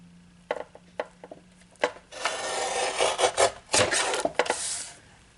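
A paper trimmer slices through a foiled acetate card panel, giving a close scraping, rasping glide of a few seconds after some light taps and handling clicks.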